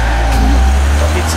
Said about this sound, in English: Pizza delivery truck.